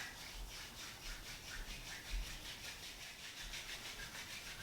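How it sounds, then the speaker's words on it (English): Fingers rubbing together produce a soft, steady dry friction that runs continuously throughout, quiet and close, with no talking. "closing the eyes and rubbing your fingers together"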